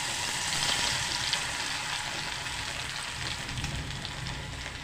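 Ground leaf paste sizzles steadily in hot oil for a hair-growth oil, a dense, even crackle with no speech over it.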